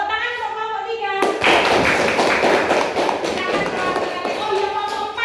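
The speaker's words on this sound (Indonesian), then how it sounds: "Tepuk tangan untuk kelompok 3." A primary-school classroom breaks into applause for a presenting group: a few seconds of dense, close clapping from many children, rising abruptly and tapering off, with children's voices around it.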